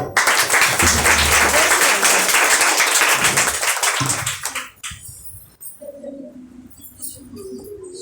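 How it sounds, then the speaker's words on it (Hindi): A group claps for children at a New Year gathering, loud dense clapping for about four seconds that fades out, followed by quieter background sounds and faint tonal noises. "हम बच्चों लोगों के लिए एक बार ताली बजाएंगे।"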